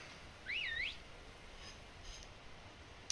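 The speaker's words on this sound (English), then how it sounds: "We'll whistle for her." A two-note rising and falling whistle calls a horse in Skyrim, heard once clearly over a low ambient outdoor bed, followed by quiet background and a faint click at the end.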